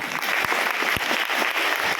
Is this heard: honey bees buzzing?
no